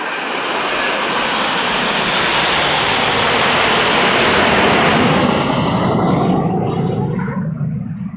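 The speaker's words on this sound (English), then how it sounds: "There will now be a flypast of aircraft from Belgium, the United States, Italy, Germany, the United Kingdom, the Czech Republic, France, and the Netherlands, including F-16s" Military jets including F-16s, Gripens and Eurofighter Typhoons roar overhead in a ceremonial NATO flypast, one loud sustained jet rush that swells and then fades as the aircraft pass.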